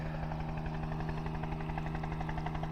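A vintage helicopter runs steadily with a continuous, even rotor and engine drone at moderate distance, holding a constant throbbing hum for the whole stretch with no voices.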